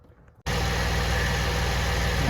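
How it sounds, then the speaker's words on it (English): A Buick Enclave engine starts up after a brief quiet moment and settles into a steady, close idle with an even low hum throughout. "we started the engine up"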